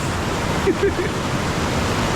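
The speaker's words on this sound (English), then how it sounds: "I don't know if you can hear me because the water is so loud." Loud rushing water roars near a bridge on a hike at Mambole in Kisumu, Kenya, a steady close wash of broadband noise filling the whole stretch without a break.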